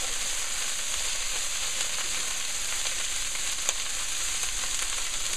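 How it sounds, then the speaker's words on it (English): Kale with a pinch of salt frying in a pan for Spam kale fried rice, a steady close hiss of sizzling with soft stirring scrapes throughout. "I'm just going to stir it about to help it start wilting down"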